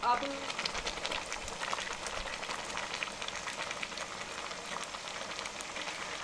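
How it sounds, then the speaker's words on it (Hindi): Milk with grated carrots for carrot halwa bubbles and simmers in a pot, making a continuous soft crackling, bubbling hiss that stays fairly quiet and steady throughout. "अब दूध को उबाल आना शुरू हो गया है"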